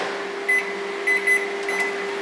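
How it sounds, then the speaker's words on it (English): A microwave oven running to melt peanut butter, a steady electrical hum broken by several short high-pitched beeps near the end, close and fairly loud with no talk. "pop it in the microwave"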